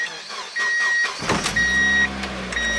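A car fitted with a quick release steering wheel, heard from inside the cabin: a few mechanical clicks and a steady tone, then the engine rumbles to life and settles into a low, continuous hum that carries through to the end.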